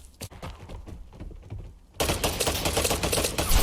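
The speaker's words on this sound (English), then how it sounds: "We're going to tap fire." Short controlled bursts of tap fire from a gun in the video game Vigor. Soft clicky shots come first, then a dense, loud stretch of rapid gunfire fills the second half.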